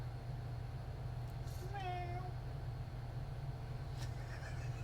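A single high, wavering meow-like cry imitated by a human voice, heard once over a steady low hum of background noise.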